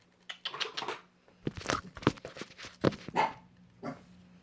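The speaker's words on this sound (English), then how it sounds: "my dog's gonna bark" A little dog barks indoors in a house, a string of sharp yips and whiny barks in uneven bursts, close and moderately loud over a faint steady hum.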